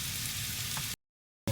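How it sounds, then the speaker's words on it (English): Bacon and garlic fry in a pan with a steady, gentle sizzle that runs evenly, then cuts abruptly to silence before a short burst of sound returns. "Bacon cooking a bit. Now add the garlic."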